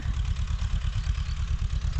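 A tractor engine running near a grassy field, a steady low idling rumble with light mechanical clatter, continuous and fairly loud throughout with no talk.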